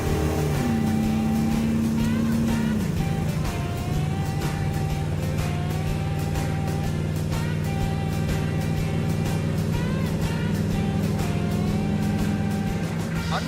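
A 1965 Ford Econoline Wheelie Wagon van with a motorhome 440 engine drones steadily at highway speed, its low engine hum shifting pitch once early on, with road and wind noise throughout from inside the cab.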